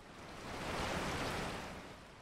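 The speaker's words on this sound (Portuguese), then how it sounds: "Olha eles se jogando na água" Enemies in Resident Evil 4 plunging into water produce a broad, rushing wash of splashing that swells to a peak midway and eases off, steady and fairly loud with no speech over it.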